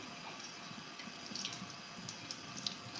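A kitchen tap runs steadily at low level, a continuous hiss of water into a sink with faint splashes and drips, with no voices.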